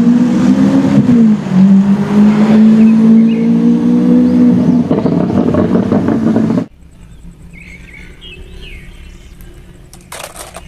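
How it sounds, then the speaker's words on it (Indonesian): A toy Lamborghini race car plays a loud, close electronic engine roar with revving pitch swings for several seconds, then stops abruptly, leaving quiet background and a few faint clicks. "Wow, lihat ada mobil Lamborghini."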